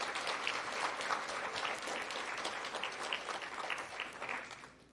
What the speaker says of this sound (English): We can give them another round of applause.